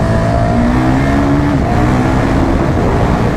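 KTM 1290 motorcycle engine revving inside a tunnel, a loud continuous roar with rising and falling pitch that echoes off the walls, close and with no talk over it.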